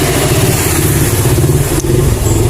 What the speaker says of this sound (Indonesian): Oke, motornya udah lancar,